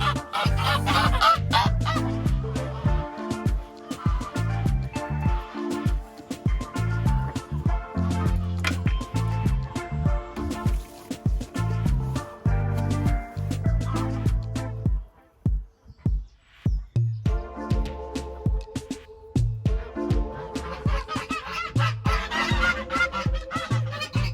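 A flock of geese and layer chickens honk and cluck together in a farmyard, with repeated, overlapping calls filling most of the stretch, briefly thinning out midway before the honking picks up again.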